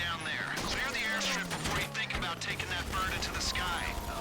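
Rapid bursts of gunfire in Grand Theft Auto V crackle through a dense, busy mix, with overlapping shots and mechanical clatter across the whole stretch.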